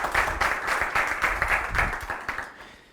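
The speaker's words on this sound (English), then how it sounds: "give a big applause" Audience applause at a DrupalCamp 2016 conference talk, a steady patter of many hands clapping that fills the room and tapers off toward the end.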